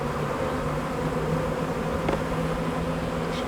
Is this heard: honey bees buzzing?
yes